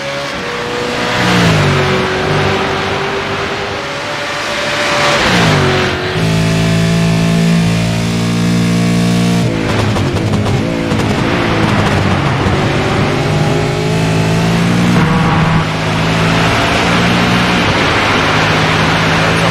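A V8 Supercar engine in the DiRT racing game, loud and close, revving hard through repeated gear changes as it accelerates out of a hairpin onto a long straight, with the pitch climbing and dropping at each shift.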